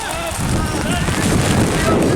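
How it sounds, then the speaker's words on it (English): A gust of wind roars across the microphone outdoors at a rainy ultimate frisbee practice, building loud and blustery within a second and staying strong, with a voice partly underneath. "The blade is knocked down by a sudden burst of wind."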